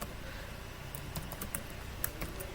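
Rapid typing on a computer keyboard while entering a city name into a spreadsheet formula, close irregular key clicks in quick bursts with a few louder taps, no talk.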